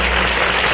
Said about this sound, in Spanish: Vamos a recibirlo con un fuerte aplauso